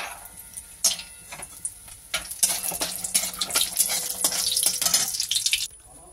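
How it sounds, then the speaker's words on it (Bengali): Bori lentil dumplings frying in hot oil in a kadai, a steady broadband sizzle with repeated scraping stirs and spoon clinks, growing louder and busier midway before cutting off near the end; no talking. "কড়াই দিয়ে একটু তেলটা গরম হয়ে গেছে, আমি বড়িগুলোকে ভেজে তুলে রাখি"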